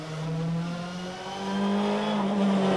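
A race car from the 2017 WTCC round in Germany drones steadily on its warm-up lap, engine note rising and holding close and loud, with no talking.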